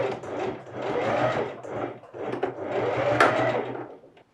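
A domestic sewing machine stitches a 1 cm seam in sheer fabric, whirring in two steady runs with a brief pause between, close and clear with no talk.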